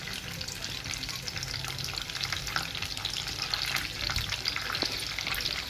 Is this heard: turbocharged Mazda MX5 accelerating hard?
no